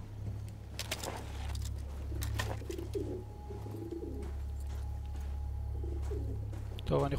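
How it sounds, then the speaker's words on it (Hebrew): Pigeons coo in the video game Battlefield 1, soft repeated low coos at close range over a steady engine-like hum, with a few clicks and brief rattles mixed in. "הנה היונים."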